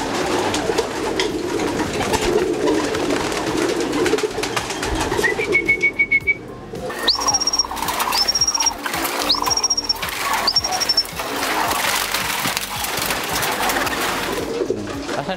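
Racing pigeons in a fancier's loft coo softly and continuously, close by, amid clattering mechanical rattles and a few thin, high whistling tones.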